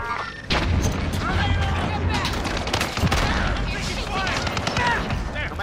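Rapid, dense gunfire and explosive bursts from the video game Call of Duty: Modern Warfare roar almost continuously after a short pause, with voices talking over the battle.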